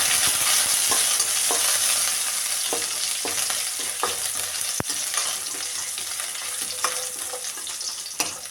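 Crushed garlic and curry leaves fry in hot oil in a pan, giving a steady close sizzle with occasional sharp ticks and pops of spattering oil and light stirring, with no voices.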